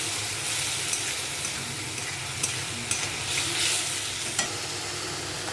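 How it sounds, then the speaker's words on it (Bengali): Spiced gravy with a little water for a pointed gourd dish is stir-fried in a pan, with a steady close sizzle and hiss broken by scraping, tapping strokes of a spatula. "সেটা আমি দিয়ে দিলাম একটু জল দিয়ে ভালো করে কষাতে থাকবো"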